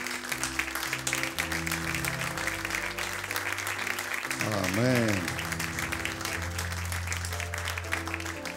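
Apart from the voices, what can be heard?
applause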